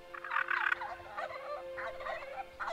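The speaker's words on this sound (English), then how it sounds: "it's the wild turkey" A wild turkey gobbles at a turkey hunting camp in rough, warbling bursts, three or four rattling calls of moderate loudness over a constant low hum, with the first burst strongest.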